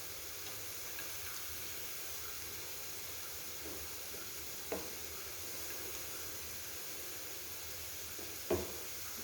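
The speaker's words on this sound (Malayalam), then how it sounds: "ഇതിലേക്ക് കട്ട് ചെയ്ത് വെച്ചിട്ടുള്ള വെളുത്തുള്ളിയും പച്ചമുളകും ഇഞ്ചിയും ഇട്ട് കൊടുക്കുന്നുണ്ട്. ഇതൊന്ന് മൂത്ത് വരുന്നത് വരെ നമ്മൾക്ക് ഇളക്കി കൊടുക്കാം." Chopped garlic, green chilli and ginger sizzle in a pan with a soft, steady hiss, punctuated by two faint clicks of a stirring spoon, quiet and close with no talking.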